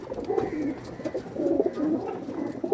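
A breeding pair of purple-footed pigeons coos close by, giving repeated low, rolling coos in short phrases with brief pauses between them.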